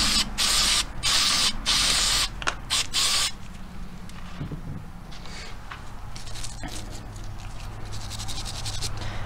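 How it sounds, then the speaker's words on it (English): Several short, hissing bursts of aerosol spray up close while cleaning a Lakefield Savage 64B rifle, followed by quieter clicks and handling noises of metal parts. "so I'll give this a spray."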